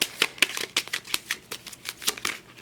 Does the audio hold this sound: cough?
no